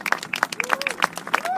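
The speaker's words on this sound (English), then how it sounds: "Great leader, great applause to the speaker." Crowd applause and clapping at an outdoor solidarity rally against deportation in New York City, with scattered sharp claps and cheering voices, fairly close and steady throughout.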